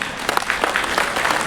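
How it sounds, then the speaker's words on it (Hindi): Clapping from a crowd of roughly 200 people at a 22nd anniversary celebration in Colombo, a brief burst of dense, steady applause with no voices over it. "जोरदार तालियों के साथ"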